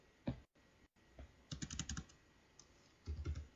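Quiet computer keyboard typing, including pressing Ctrl+S to save while coding a library website, comes as soft bursts of clicking keys with short pauses between clusters.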